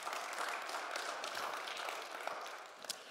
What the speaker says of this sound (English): Why don't you give yourself a round of applause today?